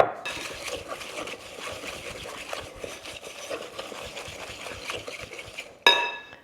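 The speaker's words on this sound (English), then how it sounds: "Butter and sugar, we're just gonna stir those until combined." Butter and sugar stirred together in a mixing bowl for chocolate chip cookie dough, a steady scraping and clinking of utensil against bowl throughout, ending with a sharper knock near the close.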